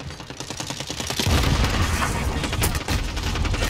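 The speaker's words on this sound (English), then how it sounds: "Of course, a random grenade." A grenade goes off during a Call of Duty Modern Warfare match amid rapid gunfire. Sharp shots rattle in quick bursts, and a heavier boom swells partway through, loud and close, with the firing continuing afterward.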